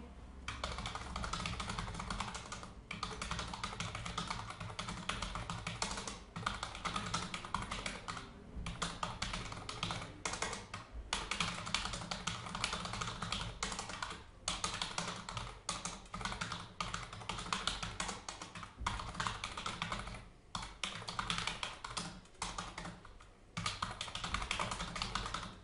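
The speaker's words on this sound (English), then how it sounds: "If we now carry on typing" Continuous typing on a computer keyboard, fast clustered keystrokes clicking close up with a few brief pauses, and no voice over it.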